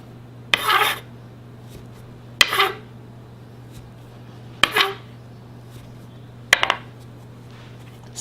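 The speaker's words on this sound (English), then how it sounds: "Now we're just going to cut the biscuits out." Buttermilk biscuit dough being cut with a metal biscuit cutter, four separate scraping, clinking presses spaced a couple of seconds apart over a low steady hum, no talking.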